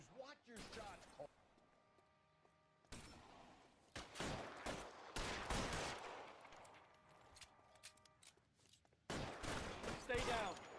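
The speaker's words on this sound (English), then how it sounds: "Just watch your shots, Cole." Gunfire from the video game L.A. Noire comes in several bursts of sharp, loud shots, some rapid volleys, with short gaps between them and game voices heard around them.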